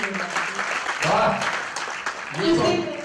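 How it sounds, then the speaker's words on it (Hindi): An audience breaks into sustained clapping and cheering, loud and steady throughout with a few swells. "एक बार जोरदार तालियां बजाने"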